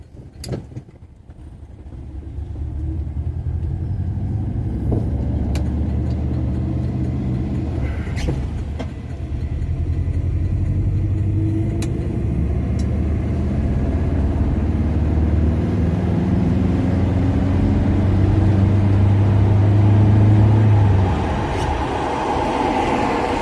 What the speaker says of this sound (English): We're just driving along with normal traffic. It ain't got any problem with going up motorway.